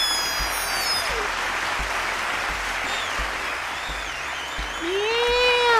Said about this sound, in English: can we get an amazing VP round of applause for Koizumi Kaito